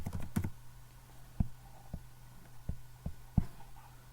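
Computer keyboard keys pressed in a sparse, uneven rhythm, about eight distinct clicks and taps close by, over a faint steady hum.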